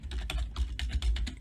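Quick keystrokes on a computer keyboard during spreadsheet entry in Excel, a short close run of soft, irregular clicks with no talking.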